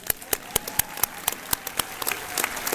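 A small group claps in a brief, close round of applause at an honor society induction ceremony, with individual claps clearly audible.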